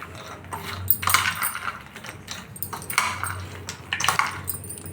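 A spoon stirs fasting chivda in a pot or bowl, making repeated metallic scrapes and light clinks in bursts, close and fairly loud, with no talking.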